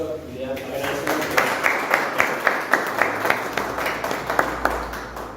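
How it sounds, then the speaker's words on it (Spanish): An audience applauds at a public talk in a lecture series, with a steady wash of many hands clapping and individual claps standing out near the microphone, sustained throughout. "Aquí le damos un aplauso y le agradecemos"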